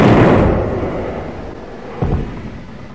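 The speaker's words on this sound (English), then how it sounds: "We're going to fire 32 cannons, 2 Gatling guns, and a death ray." A steampunk battleship model fires its side cannons: a loud booming blast that rumbles and decays, followed by a second, smaller report about two seconds later.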